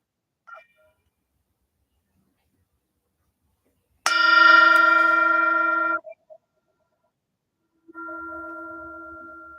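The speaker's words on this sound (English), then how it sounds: "Once more, the bell." A mindfulness bell, rung during a meditative Bible study, strikes twice with clear harmonic tones that ring and slowly fade, the second strike softer, alone in a quiet room.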